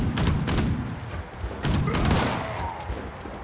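A heavy Gatling gun fires in the video game Fallout 76, several bursts of rapid shots with a booming, spread-out rumble between quieter gaps, moderately loud.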